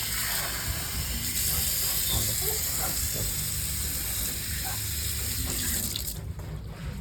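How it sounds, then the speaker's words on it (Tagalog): Water runs steadily from a tap into a container for racing pigeons, a continuous close hiss and splash that stops abruptly near the end. "lagyan natin ng tubig"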